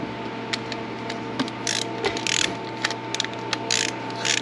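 A ratchet tightens the alternator bolts on a Cadillac CTS in several short bursts of crisp, rapid clicking, with brief pauses between strokes, close up and with no talk.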